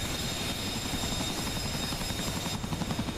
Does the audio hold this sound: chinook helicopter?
yes